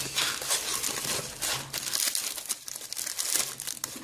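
Crinkly plastic packaging of a French army ration being torn open and handled, a steady close crumpling and rustling with sharper tearing bursts throughout, no voices.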